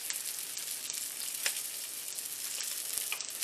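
Blackened salmon fries in a pan with a constant bright sizzle and scattered small pops. The crackling hiss runs steadily throughout at moderate level, with no voices.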